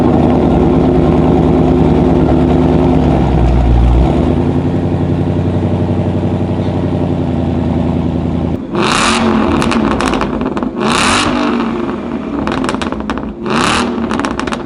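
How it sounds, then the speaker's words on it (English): A supercharged V8 Mustang engine runs loud and close, holding a deep steady drone before breaking into a series of sharp, repeated revs, with no talking. "The audio on our cars are pure V8 muscle power supercharged engines."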